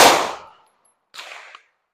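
A Glock pistol fires one sharp, loud shot that rings and decays quickly, followed after a pause by a second, quieter and more distant report.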